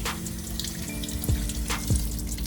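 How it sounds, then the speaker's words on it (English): Eggplants being rinsed under a running kitchen tap, a steady splashing stream of water into a sink with a few louder knocks as the vegetables are turned, no talking. "the first thing you're going to want to do is rinse off your eggplants"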